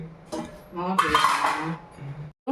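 A metal lid clanks onto a pot of chicken biryani, a short close ring and clatter of cookware with lighter clinks around it, then a brief silence and a final knock.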